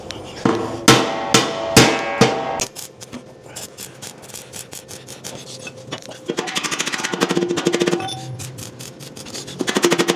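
Scrap iron trailer parts are hammered together: about five loud, ringing metal blows in steady rhythm, then a busy, rapid clatter of smaller metallic knocks and rattles.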